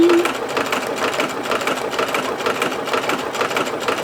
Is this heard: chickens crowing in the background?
no